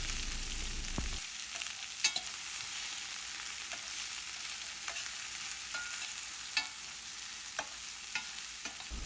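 Ladies finger (okra) curry with turmeric and salt being gently mixed in a pan, a soft steady sizzle with scattered light scrapes and a couple of sharper spoon taps, no voices.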